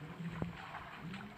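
Boat motor in a video game, a steady low drone with a brief sharp knock partway through, heard faintly in a racing-style game.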